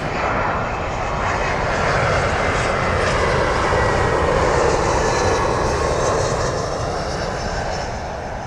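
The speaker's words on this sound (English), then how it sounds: "British Airways A320 landing here at Heathrow International Airport, runway 27 left" British Airways Airbus A320 jet landing on runway 27L at London Heathrow, a loud, steady roar of aircraft engines sustained throughout, broadband and close, swelling slightly mid-pass then easing.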